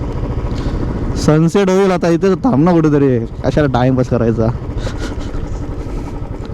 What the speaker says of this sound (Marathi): पहिल्यांदा बाईक राईड करतोय बीचवर.